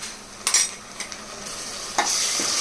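Onions with ginger-garlic paste sizzle steadily in a pan while being stirred and tossed, making continuous close frying hiss broken by scraping and stirring clatters.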